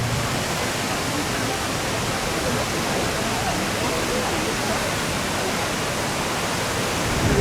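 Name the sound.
rushing water on Radja River rapids ride, Walibi Belgium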